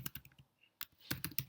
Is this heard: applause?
no